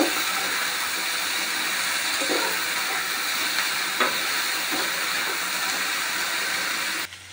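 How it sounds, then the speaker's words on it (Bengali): Potatoes and onions fry in a pan with salt and turmeric, giving a steady close sizzle and hiss with a few faint stirring knocks, until the sound cuts off abruptly at the end. "এই নুন হলুদ দিয়ে ভালো করে আবার ফ্রাই করতে হবে।"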